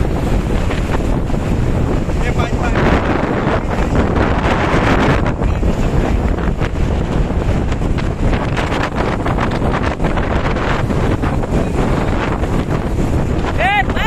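Storm wind roars across a microphone during a boat ride on the Padma river, with waves and water rushing around the hull in a loud, continuous, buffeting wash throughout.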